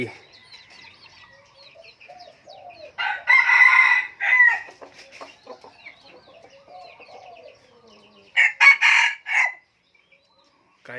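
Fighting roosters crow loudly in a few bursts in the morning, with steady clucking and chattering from chickens nearby in between.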